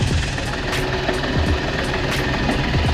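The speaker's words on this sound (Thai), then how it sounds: "มีเสียง เสียงเครื่องยนต์ของเครื่องยนต์เก่าปกตินะครับผม" An old Isuzu Big M pickup truck engine idles steadily at close range, a low rumbling chug with faint periodic knocks and no talking.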